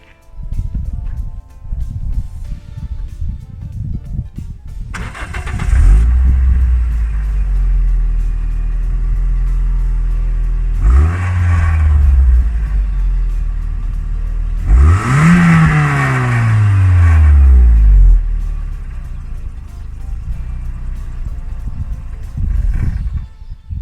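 A 2003 Toyota Yaris TS 1.5-litre VVT-i petrol engine cranks and catches, revs up in a couple of sharp bursts, then settles into a steady idle.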